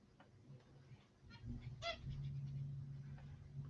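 A pet bird calls indoors, giving one short, bright squawk amid a quiet room hum, fairly faint and not close.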